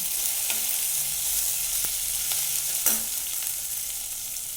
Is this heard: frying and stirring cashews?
yes